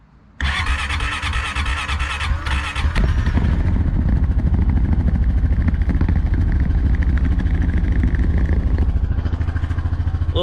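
A Honda racing motorcycle engine starts with a sharp crank, then settles into a loud, close, steady idle as it warms up, with a rapid, even exhaust beat and mechanical clatter, no talk.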